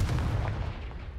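A Confringo blast spell explodes in Hogwarts Legacy with a loud, low booming burst that rumbles on and slowly decays over about a second.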